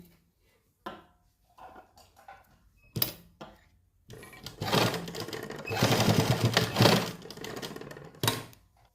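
Sewing machine stitching cotton lace onto fabric, with a few short bursts of stitching early on, then a longer, louder run of rattling machine noise, ending in one brief final burst.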